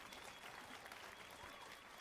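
A brief spell of quiet, scattered clapping from a crowd in The Witcher 3, faint and even throughout.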